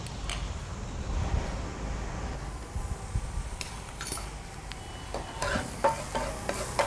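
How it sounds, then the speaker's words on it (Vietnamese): Garlic frying in a pan sizzles continuously while a utensil stirs and scrapes, adding light metallic clinks that grow more frequent toward the end, with no speech. "Chúng ta phi tỏi vừa tới."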